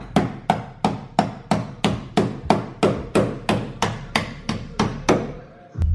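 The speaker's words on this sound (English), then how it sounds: "we have to hammer this side to the side and make it flat" A car body part that rubs against the tire on a SIL80 drift car is hammered flat during angle modifications: about a dozen sharp, evenly spaced blows, loud and close, before the hammering stops.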